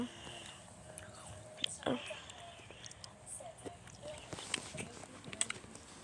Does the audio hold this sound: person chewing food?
yes